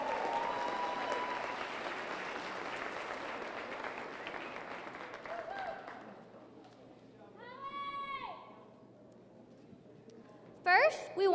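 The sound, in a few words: audience applause for youth fair scholarship recipients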